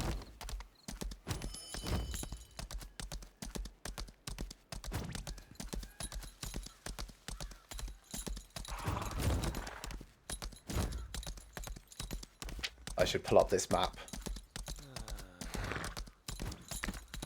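Horse hooves clip-clop in a steady trotting rhythm while riding in the video game Wardance, moderately close and continuous, with a brief whinny and a player talking over the gameplay.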